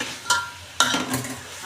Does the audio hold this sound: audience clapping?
no